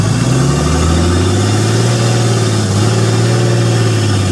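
A Mercedes 190E fitted with an OM606 diesel engine and an 8HP70 automatic gearbox drives along a road, its engine a steady loud drone that rises and falls gently in pitch as it pulls, heard close from inside with no voices.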